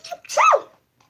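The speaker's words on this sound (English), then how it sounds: "Oh, I gotta sneeze." One short, sharp sneeze bursts out close by, then quiet follows.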